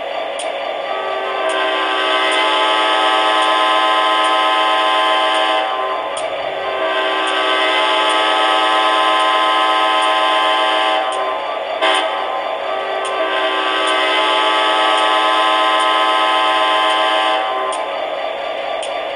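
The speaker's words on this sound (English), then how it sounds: "Now we're going to do the crossing horn" Crossing horn pattern from an MTH model Amtrak F40PH locomotive: loud chime-like horn blasts, two long, a short, then another long, sounded close and without any talking.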